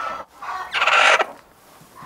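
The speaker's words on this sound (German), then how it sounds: "Er führt die Hennen zu den besten Futterstellen und warnt mit unterschiedlichen Lauten vor verschiedenen Feinden." Hens cluck and a rooster calls in a farmyard flock, with short bursts of close clucking building into a louder, longer call mid-clip, then quieter clucks.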